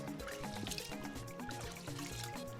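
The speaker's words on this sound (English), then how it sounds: "I'm just going to wash the rice or rinse the rice" Rice being rinsed in water, soft close sloshing and trickling as grains swirl and water pours, quiet and continuous.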